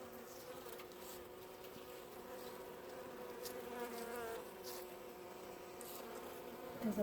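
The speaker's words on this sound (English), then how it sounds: "you can see the clusters of bees are covering the underneath of the frames as well" A small honey bee colony buzzes steadily inside a hive box set on a mesh floor, with clusters hanging beneath the frames; the dense droning hum holds even and close throughout, with a few brief louder swells.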